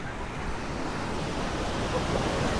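Sea waves wash in steadily at a beach in Laguna, a constant loud roar of surf with wind buffeting the microphone throughout, no voices.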